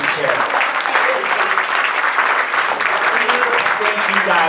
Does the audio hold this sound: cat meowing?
no